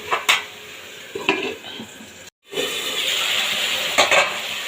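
Potatoes and masala sautéing in a pan for a Bengali fish curry, a steady close sizzle with sharp clinks and scrapes of a spatula against the metal, one brief break before the frying hiss resumes louder.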